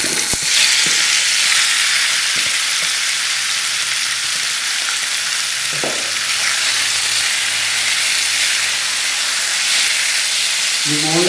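Boneless chicken pieces marinated in salt, black pepper and soy sauce frying in oil in a pan, producing a loud, steady, close sizzle with a few soft utensil knocks.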